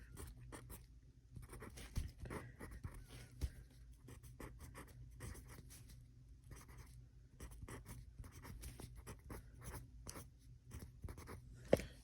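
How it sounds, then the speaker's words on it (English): A pen scratches across paper while chemistry equations are written out, producing faint, close, irregular strokes and taps in a quiet room, with no voices. "Let me write these out."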